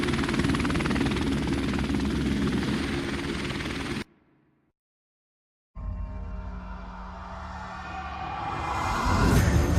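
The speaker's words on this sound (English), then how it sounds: "Enemy helicopter inbound." Enemy helicopter in a military shooter video game, a loud steady rotor and engine roar that cuts out abruptly for about two seconds, then returns and swells louder toward the end.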